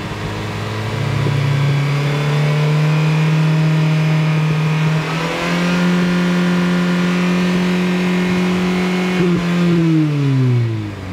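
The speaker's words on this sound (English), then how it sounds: "Give the engine a few revs to break up any of those carbon deposits." A car engine revved repeatedly after a Seafoam combustion-chamber cleaning, holding steady high revs with rising and falling pitch, loud and close, no voices.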